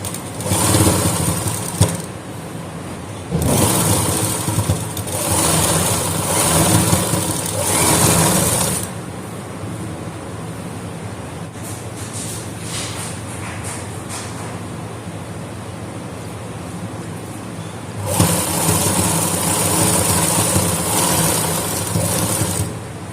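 A sewing machine stitches lace into a shirt slit, running in loud, steady whirring stretches with a pause in the middle and a final run, close up, with no talking.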